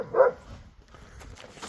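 A chained dog gives a single short bark early on, fairly close, followed by quieter rustling and faint background noise.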